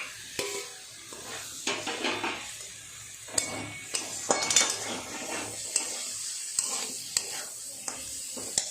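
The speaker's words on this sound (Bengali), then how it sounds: "কপি আলু যেগুলো আগে ভেজে রেখেছি সব দিয়ে দেবো, দিয়ে মশলার সাথে আরেকটু ভালো করে কষিয়ে নেব" Fried cauliflower and potatoes are stirred into a spice paste frying in a pan, giving a soft sizzle under intermittent spoon clatters and scrapes at a fairly low level.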